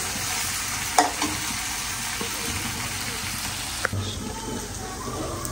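Shrimp and Malabar spinach cook in a pan with a steady, soft sizzle, joined by a couple of brief clinks of a utensil against the pan.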